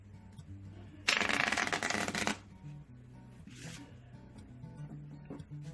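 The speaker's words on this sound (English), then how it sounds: "So you're going to shuffle 2 or 3 times." A quick riffle shuffle of a deck of cards, a crisp burst of flapping paper, followed by softer handling and tapping of the cards.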